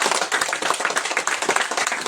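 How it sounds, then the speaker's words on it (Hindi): An audience at a Christian gathering claps together in a quick, dense run of close, sharp claps, loud and lively throughout the short stretch. "एक बार ताली बजा दीजिए"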